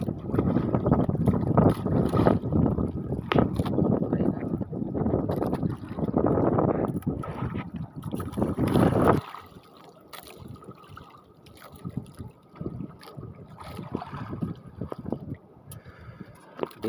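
Boat moving out past an island into rough, choppy sea, with strong broadband wave and wind noise that is loud at first, then drops to a quieter, steady wash.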